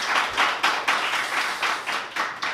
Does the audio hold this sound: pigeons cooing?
no